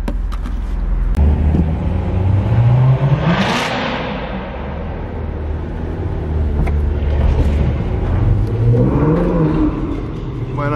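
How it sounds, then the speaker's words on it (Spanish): A Chevrolet Corvette Z06 sports car engine revs and rises in pitch, with a second sweep near the end and a hissing burst midway, close and loud over steady engine rumble. "El Z06 suena muy muy bonito también."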